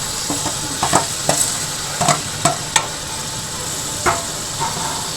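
Onion fries in oil with Malvani masala, a constant sizzling hiss broken by sharp clinks and scrapes of a spoon stirring the pan at an uneven rhythm.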